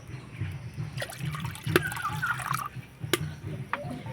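Water is poured from a bowl in a short trickling stream, close and moderately quiet, with a few clinks of the vessel.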